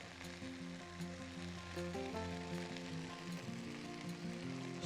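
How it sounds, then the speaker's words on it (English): Oil sizzling in a pan as mutton fries for a pepper and mustard stew, a steady crackle with low tonal hum underneath, quiet and close. "Let's add the oil a little bit. Allow to fry."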